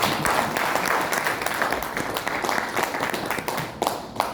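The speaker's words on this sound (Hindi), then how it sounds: "एक बार जोरदार तालियां होंगी" Sustained applause from a crowd, dense and steady clapping that keeps going at an even level throughout.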